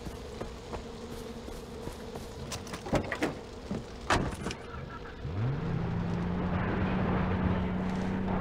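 Vehicle in the video game Far Cry 4, with clicks and thumps before its engine starts and settles into a steady, loud drone that runs to the end.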